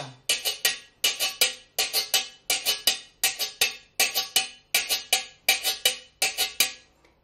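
Dominican güira scraped in a slow merengue pattern: bright metallic scrapes fall in repeating groups of three to four strokes with short gaps between groups, close and loud, played alone with no talk.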